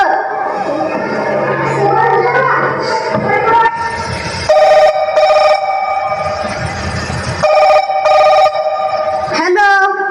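A telephone rings repeatedly in a home, a harmonic electronic ring tone pulsing in bursts with a rising chirp near the end, over a busy background of other sounds.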